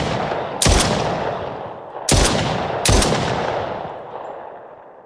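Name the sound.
gunfire with recoil in the video game Meteoric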